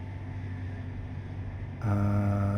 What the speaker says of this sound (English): Our little train is struggling a little bit here